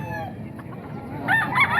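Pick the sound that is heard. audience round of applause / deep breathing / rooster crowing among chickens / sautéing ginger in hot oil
rooster crowing among chickens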